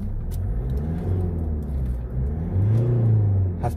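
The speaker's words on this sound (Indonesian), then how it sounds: "mesinnya saya nyalakan dan saya gas" Mitsubishi Pajero Sport Dakar diesel engine revving, heard from inside the cabin: a muffled low rumble that swells with two blips of throttle, fairly close and steady, no talking.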